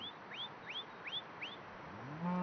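Cattle in Wyoming cattle country: a loud, low moo starts near the end, after a series of faint, repeated chirping bird calls over quiet outdoor ambience.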